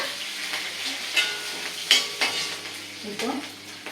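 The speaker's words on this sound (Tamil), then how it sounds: "இப்போ பச்சை மிளகாயை போடுறோம்." Green chillies frying in a pan with chilli powder for a plantain curry, with steady sizzling under a few sharp scrapes of a spoon stirring against the pan, close and moderately loud, no talking.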